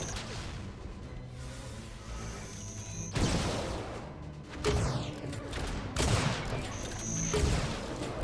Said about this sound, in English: Two quick sniper shots from Fan from below.